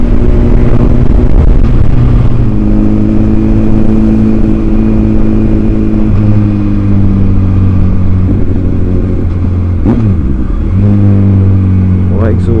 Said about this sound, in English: Oh, I do like a bike with a loud exhaust.